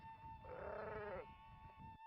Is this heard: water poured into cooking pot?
no